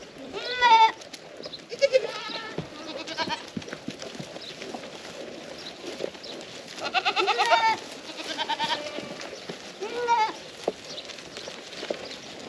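Goats, including young kids, bleat repeatedly at varying distances on a Portugal homestead in the early morning, with scattered hoof clatter and rustling between calls.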